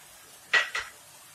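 Two quick clinks of a metal spoon against a pan while chicken masala with cumin powder and black pepper is stirred, the scrapes close and brief against near silence.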